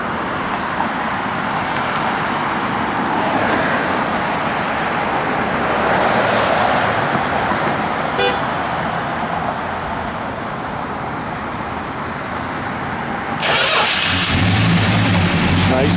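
The engine of a 1969 Plymouth Road Runner runs steadily up close, then revs louder and harder near the end.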